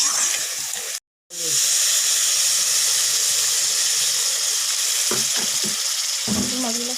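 Tilapia fish curry simmering in a pan after water is added, a steady broadband sizzle and hiss running throughout with a brief gap early on and a few soft clinks or stirs near the end.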